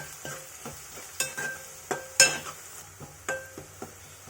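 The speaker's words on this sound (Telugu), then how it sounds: "ఉల్లిగడ్డ బ్రౌన్ కలర్ వచ్చే వరకు మగ్గనివ్వాలి. లైట్గా బ్రౌన్ అవుతున్నప్పుడు పసుపు వేసుకోవాలి. నీట్గా మొత్తం కలుపుకొని" Onions sautéing until lightly browned as turmeric is stirred in for a potato tomato curry, a soft sizzle under a regular rhythm of spoon strokes clinking against the pan.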